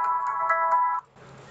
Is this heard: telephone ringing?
yes